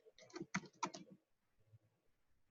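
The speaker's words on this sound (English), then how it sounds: "And I'm just going to type in" A computer keyboard typed on, a quick burst of close key clicks in the first second followed by near silence and a final single tap.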